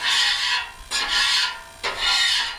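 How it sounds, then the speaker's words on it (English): Metal scraper dragged across a hot Blackstone 28-inch griddle clearing leftover grease and butter, three long rasping strokes with brief pauses between them, close and alone. "I'm going to take my scraper,"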